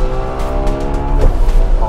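A Ferrari 12Cilindri at full throttle on a race track in race mode, its engine roaring loud and close with rising and shifting pitch, a brief tire squeal near the end.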